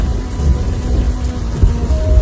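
Heavy rain pours down at night near a riverside in the cold, a loud, dense, steady hiss with low rumbling and no voices.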